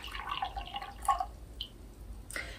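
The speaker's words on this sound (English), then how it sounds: "And then what you'll do is you pour this water and you pour it in here." Water is poured from one cup into another, giving soft, close trickling and dripping splashes in a few short bursts with quiet pauses between them, and no talking.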